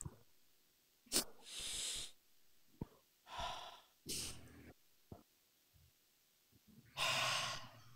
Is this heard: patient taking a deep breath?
yes